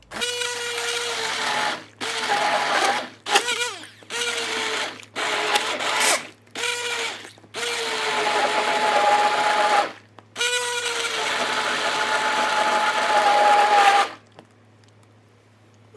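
A blender blending carrot soup whirs in repeated bursts, cutting on and off several times, then runs steadily for a few seconds before stopping; loud and close, no talking.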